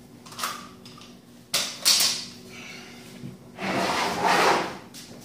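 Screws driven into wood while assembling a wooden snake rack, heard as two close, loud grinding bursts separated by quieter scraping, with no talking.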